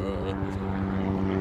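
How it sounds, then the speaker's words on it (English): A helicopter passing overhead outdoors in snowy Maine, its steady rotor and engine drone holding through the short clip at moderate level; people talk around it. "It's a helicopter."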